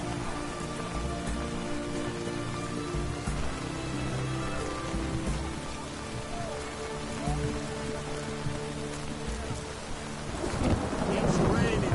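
Steady rain pours down with rolling thunder in The Witcher video game, a dense continuous wash that swells into a louder crack of thunder near the end.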